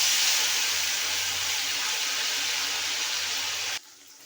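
Fish slides into hot mustard oil in a wok and fries with a steady, close, loud sizzling hiss that cuts off abruptly near the end, with no voices.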